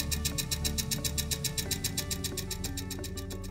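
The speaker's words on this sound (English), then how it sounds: "you may hear a ticking noise caused by the LEV known as the liquid expansion valve," LG hybrid dryer's liquid expansion valve producing a rapid, steady ticking, evenly spaced clicks repeating several times per second over a constant mechanical hum.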